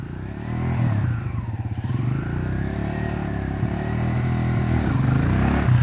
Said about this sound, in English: You can do a wheelie from down there too if you want.